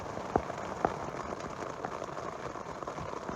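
Heavy rain pours down on a high-country hunting camp as a dense, steady hiss, with a couple of sharper drip impacts close by and no voices.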